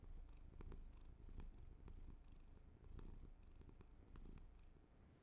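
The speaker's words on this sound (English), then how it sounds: "That's a happy cat right there." A contented cat purrs steadily and close by, its soft rhythmic rumble continuing alone without any talking.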